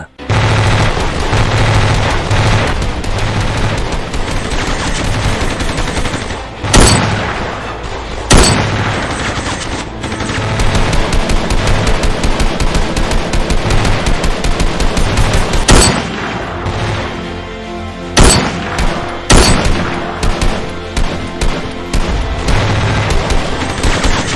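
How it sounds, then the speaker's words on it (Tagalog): Gunfire and machine-gun bursts from a battle between soldiers and rebels at a camp, loud and continuous with repeated sharp shots and booming impacts over a dense, busy background. "sinipat ang mga kalaban saka nagpaputok ng kanilang mga barel"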